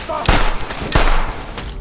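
Two loud, sharp gunshot bursts about a second apart ring out during a chaotic fight with prisoners in a TV series, each followed by a rumbling tail.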